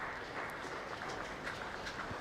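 Applause at a county cricket match between Kent and Gloucestershire, a soft, distant patter of scattered clapping from a sparse ground, steady and low in level.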